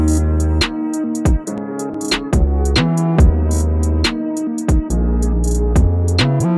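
A full UK drill beat plays loud and steady, with heavy sliding bass notes, crisp rapid hi-hats and snappy percussion hits repeating in a driving pattern throughout.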